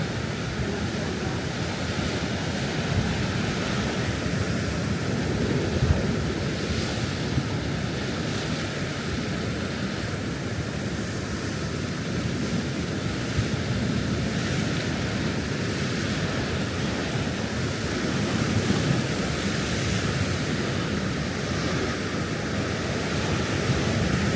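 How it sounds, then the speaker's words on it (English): Sea waves crash against a seafront wall at Bridlington in winter, a continuous loud roar of surf with rising and falling surges and steady wind noise buffeting the microphone throughout. "the waves are proper crashing up against the wall there"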